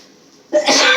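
A single sharp cough bursts out close by after a brief quiet stretch of faint room tone, then trails into a short breathy tail.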